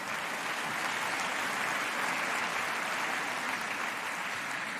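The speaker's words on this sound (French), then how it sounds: "C'est bien, vous applaudissez à ça." A comedy audience applauds continuously during a stand-up show, a thick, even wash of clapping at moderate loudness with no voices over it.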